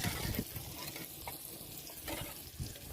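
Vegetable curry with tomatoes, chillies, spices and boiled mung beans sizzles on a traditional wood-fired clay stove at a farmhouse, with a soft frying hiss and several stirring scrapes close at hand.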